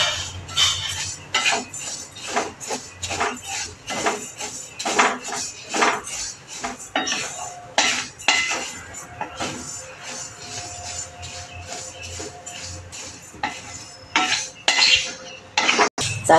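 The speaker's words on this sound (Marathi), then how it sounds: "आता आपले तांदूळ हळूहळू भाजून होत आले" Rice grains stirred in a pan while being dry-roasted for a traditional sweet rice dish, with repeated scraping and clinking of a spoon against the metal pan in an irregular rhythm, close and fairly loud, with no talking.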